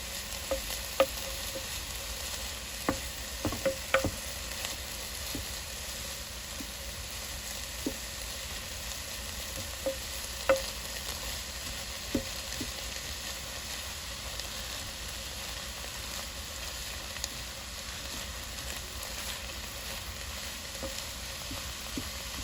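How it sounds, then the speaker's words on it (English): Ground turkey browning in a pan for chili, a continuous sizzle broken by scattered scrapes and taps as a utensil breaks the meat into small pieces, close and steady with no talking. "I'm just trying to break up the pieces as it browns"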